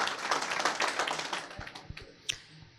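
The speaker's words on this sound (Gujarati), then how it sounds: "આપણે બધાએ ખરેખર દાનભાઈને તાળીઓથી વધાવવા જોઈએ" An audience at a Shiv Mahapuran religious discourse gathering claps: a dense burst of applause for about a second and a half, thinning to a few scattered, separate claps at moderate loudness.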